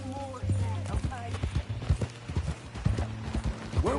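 Horse hooves clip-clop in a steady walking rhythm in Red Dead Redemption 2, close and clear, with tack creaks and a voice talking over the hoofbeats.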